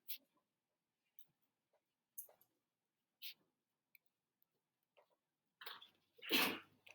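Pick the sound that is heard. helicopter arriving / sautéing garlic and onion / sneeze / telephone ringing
sneeze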